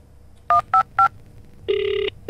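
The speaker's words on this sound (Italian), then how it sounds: "Cos'è, un telefono?" Telephone keypad tones from a horror video game, three short dialing beeps followed by a longer sustained ring tone, clear and close in a quiet room.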